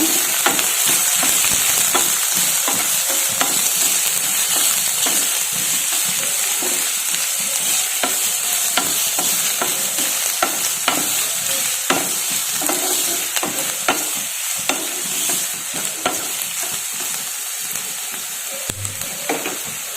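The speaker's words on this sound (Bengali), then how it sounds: "এখানে পেঁয়াজটা লাল লাল করে ভাজা হয়ে গেছে" Chopped onion and ginger fry in a pan for Bengali-style aloo paratha filling, giving a constant close sizzle broken by frequent spatula scrapes and stirs, with no voices.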